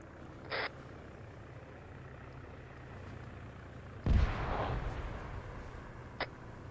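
A distant artillery explosion destroys a weapon cache in the military game Arma 3, a deep boom with a rumbling tail heard alone over faint jungle ambience, with a couple of short, faint bursts before and after.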